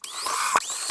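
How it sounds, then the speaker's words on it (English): A brief high-pitched whine from a power drill spinning steadily while drilling holes for a homemade swimming decoy, with a short bump in the middle, close and fairly loud. "Now you can drill out the rest of your holes."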